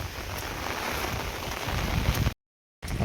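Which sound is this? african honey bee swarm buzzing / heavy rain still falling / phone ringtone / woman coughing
heavy rain still falling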